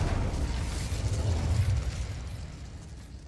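An Incendio fire spell blasting in Hogwarts Legacy, a loud low rumbling burst of flame that swells for about two seconds and then slowly fades.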